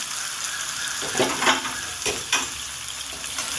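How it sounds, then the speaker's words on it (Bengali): Paneer pieces fry lightly in ghee with a steady close sizzle, punctuated by a few louder bursts of crackle as the pieces are stirred in the pan, with no talking. "পনিরগুলো সুন্দর করে আমি ঘিয়ে ভেজে নেব দেখুন খুব হালকা করে ভাজছি"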